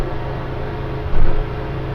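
Loud, continuous engine drone from a Trekka car heard from inside while driving, with a short swell in the middle and no speech.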